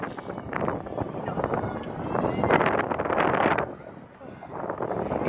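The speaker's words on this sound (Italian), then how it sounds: "Il vento è davvero forte." Strong gusting wind atop a tall church spire in Copenhagen roars and buffets the microphone in heavy waves, easing briefly near the end before building again.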